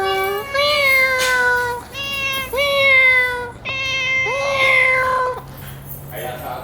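A house cat meows repeatedly in a series of four or five drawn-out, rising-and-falling calls, close and loud, with a person's voice faintly present in the room.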